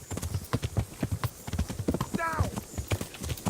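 Horse hooves in the video game Kingdom Come Deliverance, a quick, steady clip-clop of galloping close by, with a brief whinny midway and voices talking over the hoofbeats.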